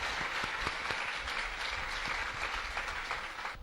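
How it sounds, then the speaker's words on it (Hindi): An audience gives warm, sustained applause to welcome the writer of a television serial, the clapping loud and even from start to finish with no speech over it. "अब हमारे इस सीरियल के जो लेखक हैं, इनका तालियों से आप स्वागत कीजिए।"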